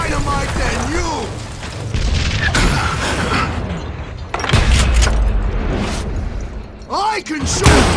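Thrown dynamite goes off in Call of Juarez: Gunslinger, several loud booms and crashing blasts landing amid gunfire and bursts of shouted dialogue in a Wild West shootout.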